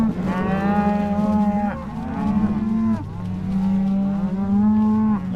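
Cattle in a ranch herd moo loudly and continuously, several overlapping low bellowing calls from animals close by, with no talk.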